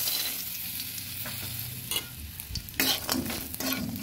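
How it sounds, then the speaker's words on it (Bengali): Bori lentil dumplings dropped into hot oil after potatoes were fried, sizzling over low heat while being stirred; a constant frying hiss with intermittent scraping and stirring clatter, close and fairly loud. "এবার ওই তেলটার মধ্যে দিয়ে দিচ্ছি কয়েকটা বড়ি"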